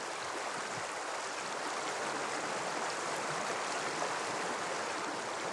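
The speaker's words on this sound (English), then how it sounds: "the first thing I hear is the beautiful sound of this river" Half-frozen river in Norway, flowing water mixed with ice, rushing as a dense, steady broadband roar throughout, close and uninterrupted with no voices.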